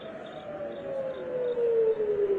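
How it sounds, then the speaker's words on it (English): Air raid sirens in Jerusalem wail steadily in a long, slowly falling tone, fairly loud, rising in strength toward the end, with no voices. "In Jerusalem, sirens wailed as Israel started its attacks on Iran"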